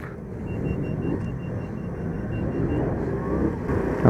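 A motorcycle rides close behind on a Bitola street, its engine a steady low rumble that builds slightly in loudness toward the end amid traffic.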